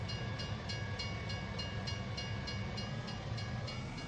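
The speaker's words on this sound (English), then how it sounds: "Somebody parked their train in the wrong spot here." A train in the farming game Farming Simulator 19 rolls steadily past at close range with a continuous rumble and regular rhythmic clicking pulses about every third of a second, with no talking.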